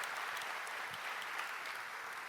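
A church congregation applauds steadily during a worship service, the clapping dense and even throughout, with no talking over it.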